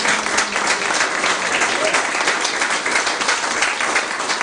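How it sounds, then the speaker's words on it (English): A breakfast audience gives the cooks a round of applause: steady, dense clapping from many hands fills the room, close and sustained without a break, with no voices rising above it. "a round of applause for all our cooks that put on a great breakfast"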